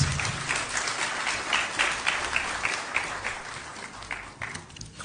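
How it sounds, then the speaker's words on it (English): Sustained audience applause welcomes President Mahama at a deputy ministers' swearing-in ceremony, a dense steady wash of many hands clapping for several seconds without talk. "Let's welcome His Excellency with a big round of applause, please."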